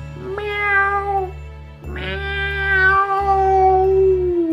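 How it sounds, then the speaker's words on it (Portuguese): A small female cat meows twice, loud and close, each cry long and falling in pitch, over a steady low droning background. "eu escutei minha gatinha miando"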